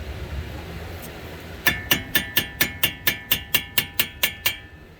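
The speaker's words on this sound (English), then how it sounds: "Where's my hammer at?" A hammer strikes the right front wheel hub of a 2012 Nissan Altima about fourteen times in a steady, quick rhythm, each blow sharp and ringing, close by after a quiet stretch of background noise.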